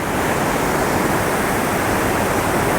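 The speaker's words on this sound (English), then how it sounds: "You can really get a good judge of how hard the water's running and how high the river is." Fast, strong river water runs high after heavy rain, a steady broadband roar of rushing current that stays loud and continuous throughout with no voices.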